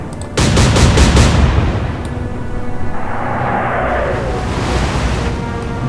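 Warship guns fire in the Atlantic Fleet naval video game. A quick series of heavy, loud blasts rings out, then a long rumbling decay fades under a lingering whistle.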